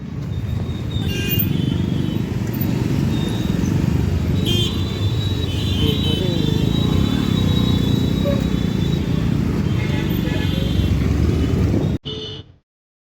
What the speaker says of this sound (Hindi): और ट्रैफिक है रोड में आज